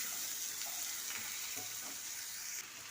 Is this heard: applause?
no